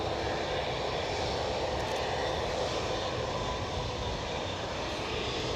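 A Boeing 787 Dreamliner jet's engines produce a steady, loud broadband roar that holds evenly throughout with no voices.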